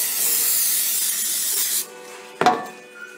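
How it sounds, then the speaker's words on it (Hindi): A steady hiss of cooking spray coating a baking pan for banana bread lasts nearly two seconds, then a sharp clatter as the can or pan is set down. "अब ये पैन लेना और इसको ये लगाना है कुकिंग स्पे।"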